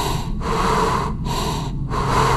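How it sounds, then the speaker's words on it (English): Heavy, rasping breaths in a forest, three long loud inhale-exhale cycles with short gaps, close and harsh. "Who is breathing like that?"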